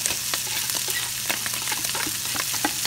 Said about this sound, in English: Now we're going to add our carrots.